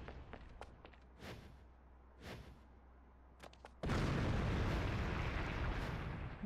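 A gun blast in the action game Bayonetta bursts into a loud, sustained roaring explosion after scattered sharp pops and thuds, the noisy rumble continuing to the end.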